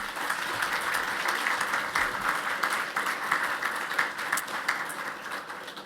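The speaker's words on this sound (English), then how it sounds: "a big round of applause again for Auntie Violet" At the National Rural & Remote Health Awards 2024, an audience gives Auntie Violet a round of applause, steady crowded clapping heard at moderate distance for several seconds.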